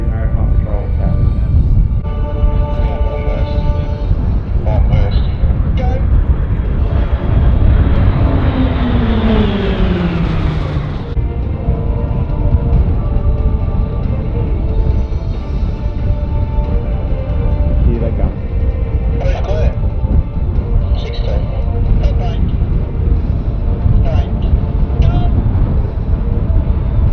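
Pilatus PC-9A trainers of the Roulettes display team performing at the 2019 Avalon Airshow, a steady loud engine roar with a falling pitch sweep as an aircraft passes about ten seconds in, under a background of crowd talk.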